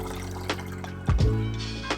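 Used Cinestill DF96 black-and-white film developer poured from a developing tank back into a jug, a short gush of liquid splashing against a low steady hum, with a faint tap or clink before it.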